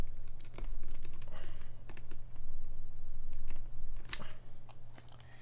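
Keycaps are pressed and fitted onto a mechanical keyboard, giving a run of sharp plastic clicks and clacks at irregular intervals over a steady low hum, with one louder snap near the end.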